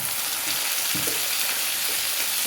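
Beans and green chillies sizzle steadily in hot oil after mustard seeds have popped, a constant close frying hiss with faint stirring scrapes and no talk.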